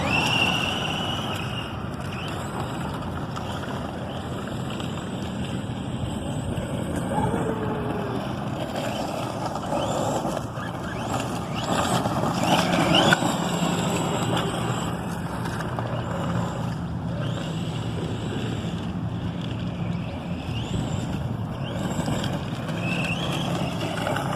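A Redcat Shredder RC truck being driven through water during a waterproof test, its motor whining steadily and continuously throughout, with splashing and rushing noise, fairly loud and close, no talking.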